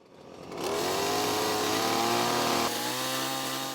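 A chainsaw carving a large wooden bear revs up loudly and runs at a high, steady whine for a few seconds before easing off slightly.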